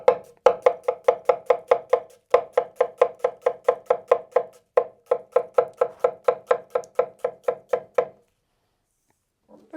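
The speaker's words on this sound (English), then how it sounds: "we're also gonna bring that knife down in one clean motion" A kiritsuke knife chops vegetables on a cutting board in quick, even, close knocks, about three per second, with one brief pause before the chopping stops after eight seconds.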